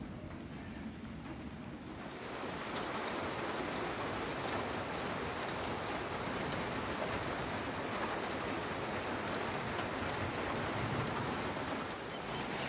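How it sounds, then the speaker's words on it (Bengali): Light, slow rain falling outdoors during hot weather, starting after a couple of seconds as a soft, even patter that stays faint and steady with no one talking. "যদিও বৃষ্টির খুব ধীর গতি, ঝিমি ঝিমি পড়তেছে, মিটি মিটি।"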